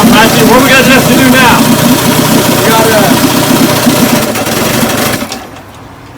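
A 1958 Evinrude 18 HP outboard motor idles with a steady, close, rough putter that drops away near the end, with people talking over it.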